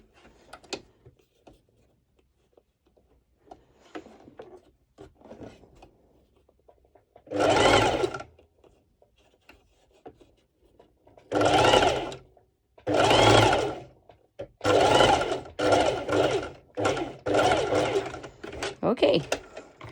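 A sewing machine stitches a ruched underwire bikini top in loud bursts of rapid stitching, separated by pauses of quieter handling; the bursts grow longer and closer together toward the end.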